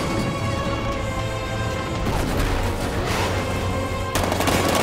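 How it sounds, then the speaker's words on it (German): Heavy 60mm cannon gunfire from the Batman Arkham Knight video game pounds in a continuous loud barrage of rapid booming shots, with a sharp fresh blast near the end. "60mm Geschütz, einsatzbereit."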